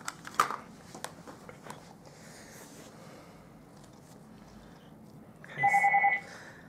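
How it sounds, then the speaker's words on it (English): A phone rings in a room where a card is being made with ink and stamps, a short burst of two steady tones near the end after a stretch of quiet handling noise, fairly loud and close. "I don't know why my phone rang"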